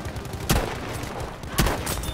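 Two sharp gunshot bursts from a Battlefield V match, one near the start and one near the end, standing out over a dense, steady bed of distant battlefield gunfire with no voices.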